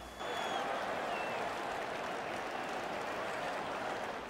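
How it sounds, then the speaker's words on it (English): Arena crowd in the NHL 15 hockey game cheering and applauding in a steady, dense roar that swells in quickly and holds loud throughout, with no voices standing out. "Guys trying to get the crowd going"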